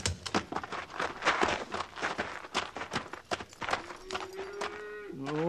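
Cattle herd sound effect from a 1958 Western radio drama: a dense run of hoofbeats and livestock noise, with a drawn-out lowing moo rising near the end, fairly loud and close.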